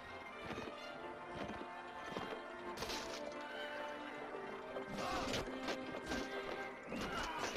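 A horse in a medieval strategy video game neighs loudly, with clip-clopping hooves and a few sharp impact sounds, all over a continuous game background.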